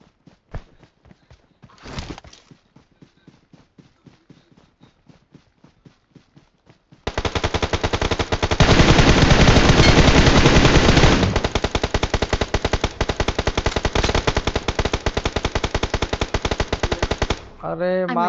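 Machine gun fire in a shooting video game starts as sparse, quiet single shots. It then erupts into a long, loud, sustained burst of rapid fire that swells in the middle before stopping abruptly near the end.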